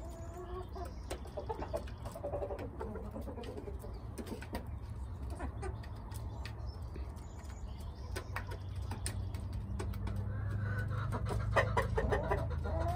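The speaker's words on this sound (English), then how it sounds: "The happy sounds of a bunch of content birds." A flock of chickens clucking and murmuring steadily, with scattered sharper calls over a constant low background hum.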